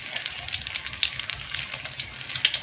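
Thai fish and banana blossom cakes deep-frying in hot oil, giving a steady close crackling sizzle with small pops scattered throughout and no talking.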